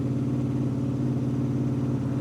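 A Honda VFR800 VTEC motorcycle engine idling at about 2200 RPM, a steady, loud, even drone with a low pulsing throb that holds constant throughout, no voices.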